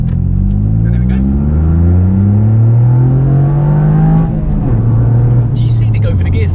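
Toyota GR Yaris hot hatch accelerating hard, its engine note climbing steadily through the revs before a brief dip at a gear change and renewed pull, loud and close from inside the cabin, with voices talking over it.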